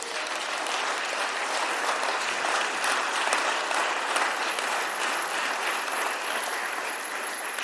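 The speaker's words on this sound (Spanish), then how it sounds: "Denle un aplauso al Señor." Congregation applauding during a church service, a loud, dense and sustained wave of many people clapping that holds steady without a break.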